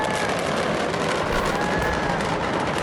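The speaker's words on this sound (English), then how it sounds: "Okay, so that's the fireworks." At a fireworks factory, fireworks go off in a dense, continuous crackling roar of explosions, loud and sustained with no clear gaps.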